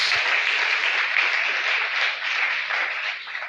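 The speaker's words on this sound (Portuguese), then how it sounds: "Dê um aplauso a Jesus." A dense, steady wash of applause from a Pentecostal church congregation fills the whole stretch, loud and continuous, with no speech over it.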